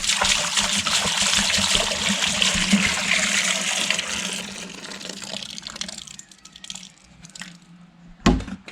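Liquid poured into a Suzuki GS 500 motorcycle part, a loud continuous rushing splash that fades toward the end, followed by a few faint clinks and one sharp knock.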